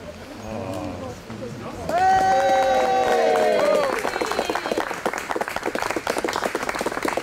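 Rain-soaked crowd at an outdoor unveiling ceremony in a park applauds and cheers, a steady mass of clapping swelling mid-clip with voices and a brief tonal call over it, continuing fairly loud to the end.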